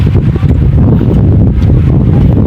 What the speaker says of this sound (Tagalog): Pero na lang, ambon at saka hangin.